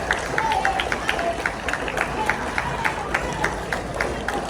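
Audience applause after a talk, a crowd clapping steadily with many quick overlapping claps, fairly loud and continuous with a murmur of voices beneath.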